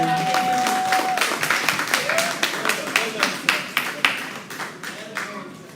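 An audience claps at a teachers association's 60th anniversary function. The applause starts out dense and steady, then thins into distinct, rhythmic claps that fade near the end, with a few voices mixed in.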